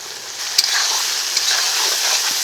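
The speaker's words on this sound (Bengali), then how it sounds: "এখন মশলাটাকে ভালো করে কষিয়ে হালকা কষিয়ে নিয়েছি এখন টক দই দিয়ে আর একটু ভালো করে কষিয়ে নেবো" A spice paste of cumin, garlic, ginger, dried red chilli, salt, turmeric and chopped tomato sizzles steadily in a pan for chicken biryani, with a couple of sharp scrapes from a stirring spoon.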